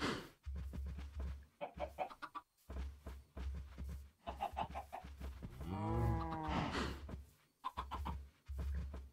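A low, drawn-out Minecraft cow moo rises and falls amid other farm animal calls and clucks, with an electronic, game-like quality throughout.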